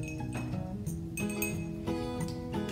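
A spoon stirs food coloring into water in a glass, giving repeated bright clinks against the glass over a faint steady background.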